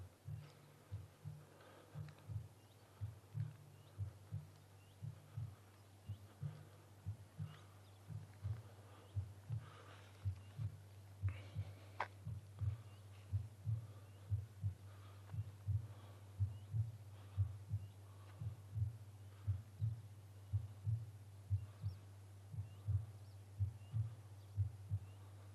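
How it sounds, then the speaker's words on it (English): Slow, steady heartbeat playing as a memorial sound installation at the Salaspils concentration camp site in Latvia, deep rhythmic thumps repeating continuously over a low hum, loud and unbroken throughout with no one talking. "that's the heartbeat that symbolizes all the children who lost their lives here"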